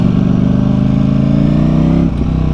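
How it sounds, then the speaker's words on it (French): Sporty motorcycle engine running close and loud, a steady throbbing roar that dips briefly near the end, with no voices. "Oh la vache, le bruit. Je sens que je vais bien aimer cette moto."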